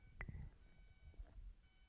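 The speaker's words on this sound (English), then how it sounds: "I think that's an alarm clock." A single faint electronic beep sounds at the start, quiet and distant, followed by low room noise.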